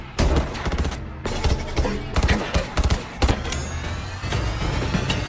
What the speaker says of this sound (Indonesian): Dan di luar terjadi tembak-menembak.